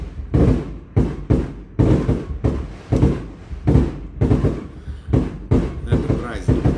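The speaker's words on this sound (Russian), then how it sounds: "Соседи взрывают салют" Neighbours set off festive fireworks nearby, a series of heavy booming thuds about once a second with crackling decay, loud and close, while a person talks between bursts.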